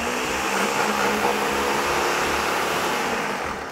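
A loud kitchen machine whirs steadily as it blends cauliflower rice for a mashed basil side dish, a continuous motor drone with no talk.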